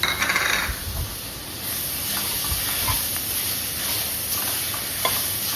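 Tomatoes land in hot masala for a soybean and chickpea curry, setting off a steady, close hiss of sizzling with a few stirring clinks of a spoon against the pan.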